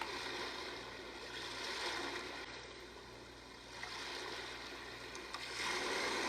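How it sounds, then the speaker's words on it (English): Ocean setting on a bedside sleep sound machine: continuous rushing water noise that swells and recedes slowly in gentle surges, with no talking over it. "This is the ocean."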